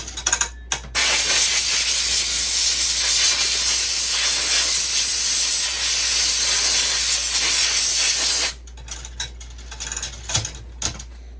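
Compressed air blasts through a rimfire rifle part during cleaning, a loud, steady, close roaring hiss lasting several seconds before it cuts off into scattered clicks and handling noises.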